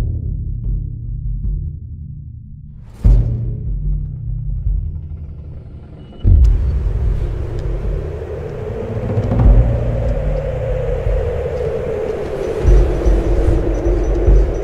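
Steady low rumble of a minivan travelling a road from Georgia toward Armenia, heard from inside, with a couple of sharp bumps and rising road noise partway through and no voices.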